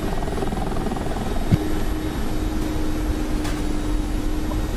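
Steady rotor thrum of a Russian helicopter in the DCS World flight simulator, a constant close drone with a faint whine and one brief knock, no voices over it.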